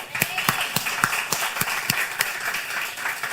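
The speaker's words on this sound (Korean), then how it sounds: "하나님께 영광의 박수 한번 올려드립시다." A church congregation claps together during a Korean sermon, with sharp, fairly even claps in a quick rhythm over a soft background murmur and a voice.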